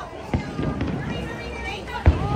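Fireworks at a Disney park finale, a few deep booming bursts spread out with a large crowd murmuring and chattering close by throughout.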